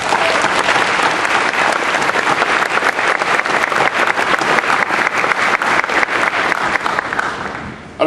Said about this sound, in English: Let's take a moment and a round of applause for all of them.